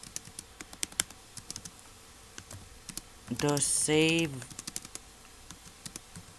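Steady clicking of computer keyboard keys, typed in irregular bursts throughout, briefly joined by someone speaking a few words midway.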